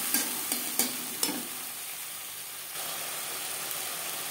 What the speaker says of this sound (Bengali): 10-15 সেকেন্ড ভেজে নেওয়ার পর দিয়ে দেবো আদা বাটা, কাঁচা লঙ্কা বাটা আর টুকরো করে কেটে রাখা টমেটো